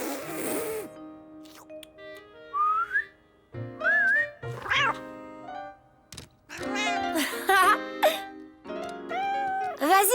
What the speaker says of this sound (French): Vas-y, Caillou, essaie de siffler.